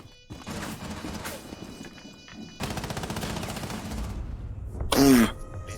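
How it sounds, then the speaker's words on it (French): Shooting video game: two long bursts of rapid automatic gunfire with clatter, closing on a short sharp louder blast, with a voice briefly heard. "Il lui faut combien de balles à cette connasse?"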